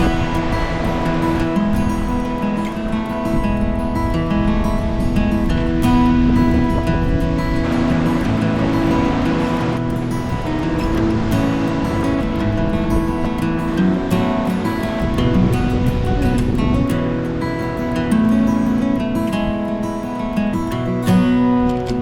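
Ocean surf breaks below steep rocky cliffs on the Oregon coast, a continuous loud roar and wash with wind, no voices.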